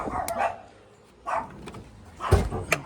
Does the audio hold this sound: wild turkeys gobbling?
no